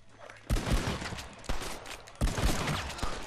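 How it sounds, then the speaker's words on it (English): Shotgun blasts in the Red Dead video game, three loud, close booming shots spaced about a second apart, each with a rolling tail. "why are you shooting me?"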